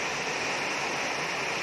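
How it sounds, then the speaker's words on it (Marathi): Heavy monsoon rain pours in a steady, dense hiss, continuous and fairly close, with no voices over it. "हे बघा पाऊस, किती पाऊस आहे बघितलं का."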